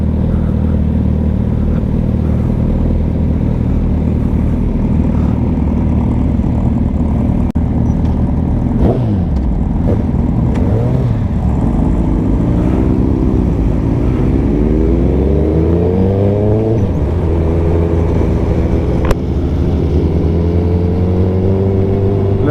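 Engines rumble and rev continuously, pitch rising and falling as a group of Suzuki Hayabusa motorcycles ride along together in Dubai, loud and close with no talking.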